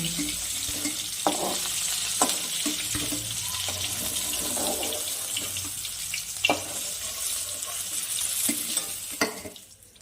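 Remaining bacha fish frying in oil, an even close sizzle punctuated by a few sharp utensil taps and scrapes, fading out at the end, no one speaking.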